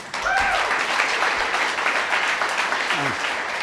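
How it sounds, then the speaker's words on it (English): An audience at a data conference keynote applauds steadily, a dense wash of clapping throughout, with a brief voice briefly audible near the start. "Let's give Noel a big round of applause."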